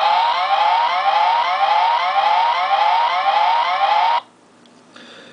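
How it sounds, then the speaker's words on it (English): A Deltasquad Megazord toy plays a loud electronic police siren, a rapid warbling wail that runs steadily for about four seconds and then cuts off abruptly, leaving near silence. "it makes an actual police siren"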